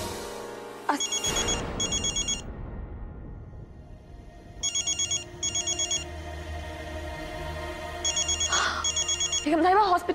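A telephone rings in a household scene from a Hindi TV drama, sounding in three separate bursts of rapid trilling rings with pauses between them, over faint background music.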